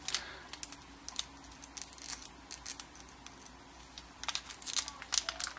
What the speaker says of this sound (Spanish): Y no puedo abrir la bolsa.